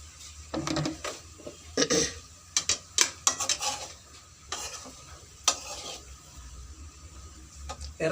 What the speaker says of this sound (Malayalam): ഇനി ഇതിലേക്ക് നമ്മൾ ചെറിയ പീസായി അരിഞ്ഞു വെച്ചിരിക്കുന്ന കൂണിട്ട് കൊടുക്കാം.